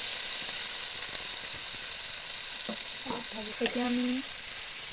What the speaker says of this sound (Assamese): 5 মিনিটমান এই আলুখিনি ভাজি থাকিম